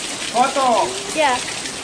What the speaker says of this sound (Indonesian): jadi kita lagi mandi hujan di Tahun.